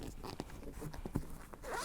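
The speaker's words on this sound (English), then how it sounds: "zip it up just like that" A zipper is pulled closed on the cover of a bulletproof memory foam pillow, a few short close zipping strokes ending in a longer quick rasp, quiet and alone.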